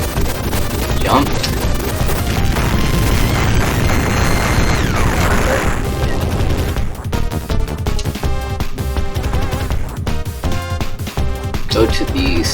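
Heavy gunfire and booming explosions in Contra: Hard Corps, dense rapid shooting with loud blasts layered over driving game music, continuous and close throughout.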